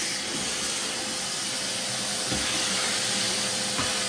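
A Craftsman 12 gallon wet dry shop vacuum runs continuously with a loud, steady broadband hissing roar as it sucks up debris, close and constant with no talking.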